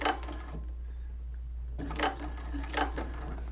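A cylinder arm sewing machine stitches very slowly through a thick zipper panel of a hobo bag, giving a soft, sparse clatter with a few louder needle thumps over a steady motor hum.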